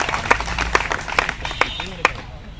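Scattered, uneven clapping from a small crowd at an outdoor strike rally greets a speaker, with sharp individual claps standing out over a background of voices.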